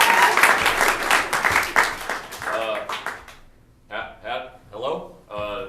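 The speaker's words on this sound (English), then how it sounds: "So please give these kids a round of applause." An audience applauds a group of kids, a burst of dense, loud clapping lasting about three seconds before dying away, followed by someone speaking into a microphone.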